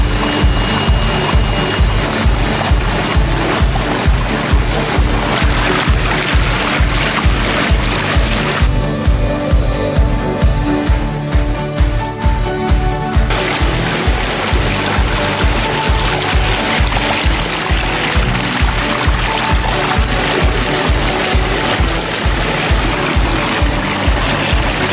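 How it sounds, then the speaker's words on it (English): Water from a backyard pond waterfall splashes and pours steadily into the pond, a continuous rushing, bubbling wash heard close up with no voices over it. "one of the things that I mentioned was the waterfalls itself"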